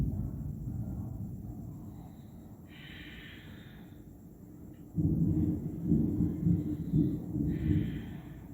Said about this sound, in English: I'm hearing some thunder here.